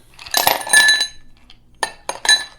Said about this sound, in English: taking a rocks glass and putting some ice cubes in it